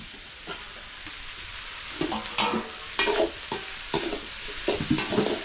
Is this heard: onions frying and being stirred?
yes